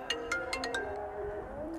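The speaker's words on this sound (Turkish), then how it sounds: "Sürekli de videolarda telefonum çalmaya başlıyor." A mobile phone rings with an incoming call, giving a repeating electronic ringtone melody with bright chiming notes over steady background noise.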